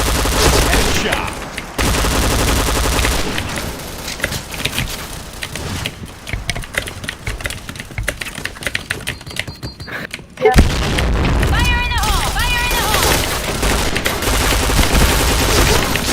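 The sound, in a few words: gunfire in video game Point Blank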